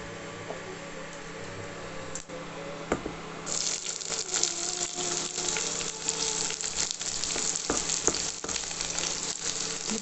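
Onions hit hot oil with garlic in a pan for a beetroot and potato dish: a quieter sizzle swells into loud, crackling frying, with stirring clatter and spoon knocks throughout.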